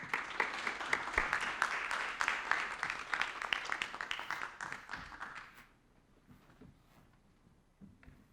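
Audience applause at an Older Americans Month awards ceremony as a singer comes to the stage, a dense run of clapping lasting several seconds before thinning out into a quiet room with a few scattered claps.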